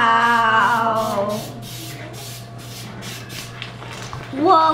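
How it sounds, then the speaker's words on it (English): A can of Pam cooking spray gives a series of short, airy hissing bursts while apple pie dough is being prepared, following a voice exclaiming at the start, with another exclamation as it ends. "I sprayed with Pam."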